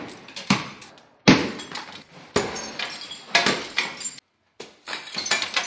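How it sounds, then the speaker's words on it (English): Window glass being smashed and dropping into a dumpster below during an abandoned building renovation: several loud, sharp shattering bursts with tinkling debris, separated by short pauses. "when I smash it, all the glass is just gonna go right into that"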